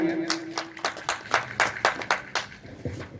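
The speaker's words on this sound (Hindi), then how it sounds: "के लिए जोरदार तालियां" A crowd at a celebration gives a short burst of rhythmic, fairly close applause, with about a dozen distinct claps rising and falling over a few seconds after a voice briefly speaks.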